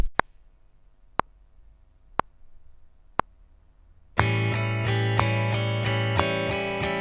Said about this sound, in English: If we were to strum that, it would sound like this.